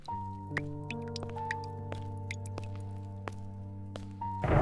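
Rain water drips in scattered, irregular plinks against a steady low hum, with small sharp drops landing close by.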